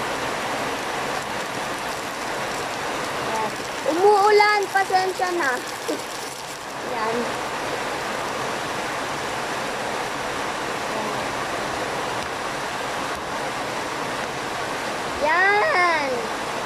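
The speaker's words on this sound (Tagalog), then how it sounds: "Umuulan, pasensya na." Steady rain falling outdoors, a continuous hiss throughout, while a person speaks in short bursts over it.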